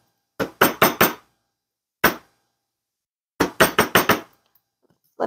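Hammer blows flattening a wire cold-connection bangle on a mandrel, a quick burst of four sharp metallic strikes, one lone hit, then another fast run of five, close and loud with no talking.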